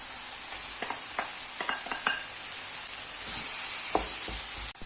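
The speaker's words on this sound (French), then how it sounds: "Ensuite, ajoutez la viande hachée." Minced meat sizzling steadily in a hot pan, a constant hiss broken by several sharp clicks and taps of a utensil against the pan, with no talking.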